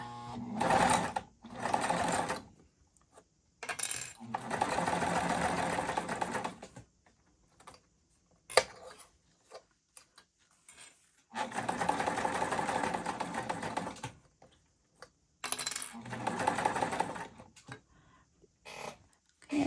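Sewing machine basting stitches along a zipper with a regular presser foot, running in several bursts of steady rapid whirring separated by short pauses and sharp clicks.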